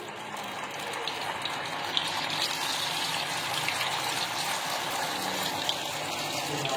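Masala fish pieces for a Lahori-style fry slide into oil that is not very hot, with the flame turned low. A steady, moderately quiet hiss of frying runs unbroken throughout, with no voices.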